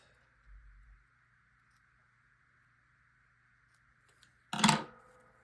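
Scissors trim small paper triangles off a school-themed photo scrapbook layout, a single close, brief snip near the end after a long quiet stretch with a faint hum.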